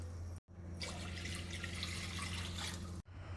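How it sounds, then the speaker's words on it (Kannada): Two cups of water poured into a pressure cooker heating on a stove for drumstick sambar, a soft, steady stream splashing for about two and a half seconds between brief quiet gaps, with no speech. "2 ಲೋಟ ನೀರು ಸೇರಿಸ್ತಾ ಇದ್ದೀನಿ"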